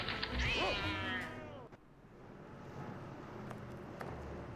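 A cat in The Testament of Sherlock Holmes game lets out one loud, drawn-out meow at the start, then quiet background ambience follows with a few faint clicks.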